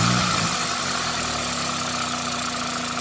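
A 2003–2008 Toyota Corolla engine runs warm during a radiator replacement, a throttle blip fading back into a steady, even idle hum recorded up close, with no talking.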